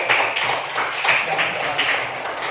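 Students in a classroom clap for a group after a lesson, a brisk close patter of many hands with slight surges, filling the whole moment at a fairly loud level.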